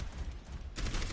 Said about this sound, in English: You can still keep shooting